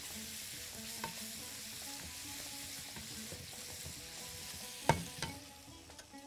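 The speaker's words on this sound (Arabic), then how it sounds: "ادي الطماطم البوريه مع الفلفل مع الشطه." Tomato puree, pepper and chili sauce hitting a hot pan for olive arrabbiata pasta, with a steady sizzle and stirring scrapes, and a sharp utensil clank just before the five-second mark.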